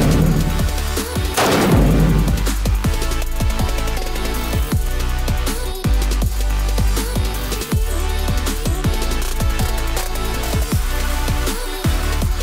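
AK47 rifle rounds fired at a car window winder, loud repeated sharp cracks in an irregular series over several seconds with echoing tails.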